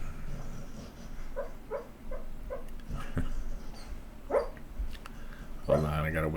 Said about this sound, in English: You hear my dog dreaming over there.